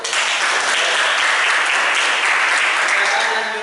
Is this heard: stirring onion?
no